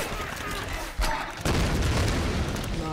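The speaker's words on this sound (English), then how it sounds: "It's a grenade, of course." A grenade explodes in the Tomb Raider video game, a loud booming blast that fills the mix with a second heavy burst after a brief dip, over dense game noise.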